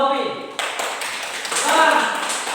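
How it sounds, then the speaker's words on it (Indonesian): A classroom of students claps for the first group after its presentation, a dense burst of applause that starts abruptly and carries on steadily, with voices mixed in. "Tepuk tangan untuk kelompok 1 atas dari perwakilan Novi."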